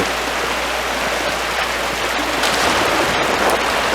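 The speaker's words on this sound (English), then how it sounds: "The waterfall must flow down from the snowmelt in the mountains above the abbey." A waterfall in the Pentiment video game, fed by snowmelt from the mountains above an abbey, gives a steady, broad rushing wash of falling water, even and unbroken throughout.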